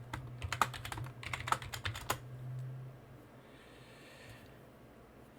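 Password being typed on a computer keyboard, a quick run of sharp key clicks in the first two seconds over a low hum, then quiet room tone.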